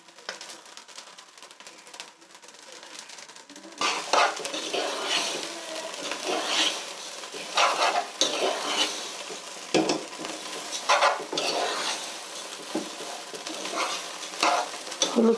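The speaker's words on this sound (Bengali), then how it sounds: "হলুদটাকে আমি ভালো করে নেড়ে চেড়ে প্রত্যেকটা চাল ডালের গায়ের সাথে মিশে দেব।" Rice and lentils with turmeric are stirred in a frying pan for chicken khichuri. A quiet start gives way to loud, continuous sizzling and repeated scraping strokes of a utensil against the pan.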